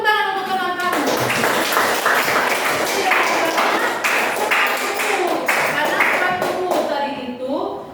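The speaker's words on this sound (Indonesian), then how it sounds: "Iya, tepuk tangan untuk teman kamu." Schoolchildren in a classroom clapping hands for a classmate, a lively burst of many claps with an uneven rhythm lasting several seconds, while someone speaks before and at the end.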